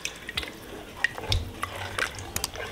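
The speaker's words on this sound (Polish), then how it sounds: "Mieszamy do rozpuszczenia i dolewamy do mięsa." A potato starch mixture is poured into goulash meat, making soft close splashes and liquid trickles broken by small drips and clinks.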